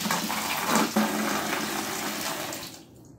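Water rushes steadily through a washing machine hose at fairly low volume, then cuts off near the end.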